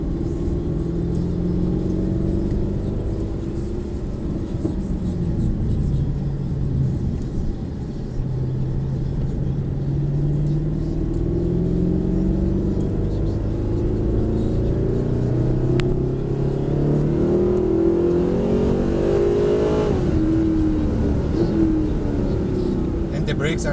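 A Mercedes-Benz SLS AMG accelerates on the Mercedes-Benz World Brooklands track, its engine a steady, heavy rumble that climbs in pitch from inside the car while people talk over it.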